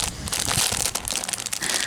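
Craft material is crinkled and cut by hand, with close, busy bursts of rustling, snipping and crunching across two seconds and no talking.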